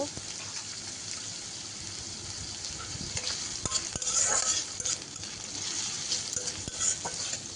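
Malabar spinach with chopped green chilies sizzles steadily in a pan, a continuous frying hiss with occasional scrapes and clicks of a spatula stirring through it, close and moderately loud.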